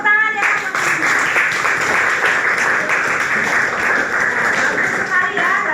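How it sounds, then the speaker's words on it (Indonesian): Students in a school classroom clap together after a classmate presents a geography lesson on volcanism. The applause is dense and continuous, steady for about six seconds and fairly loud throughout. "Oke, tepuk tangan ya."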